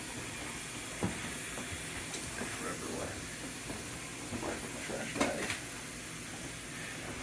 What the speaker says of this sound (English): So we're going to let this fry up real quick